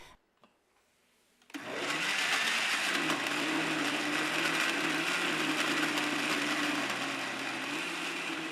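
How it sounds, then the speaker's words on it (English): A blender whirs spice ingredients with water into a liquid paste, a loud continuous grinding roar that starts abruptly after a quiet moment and holds steady to the end, with no talking. "Now blend everything together until you have a well-mixed liquid paste."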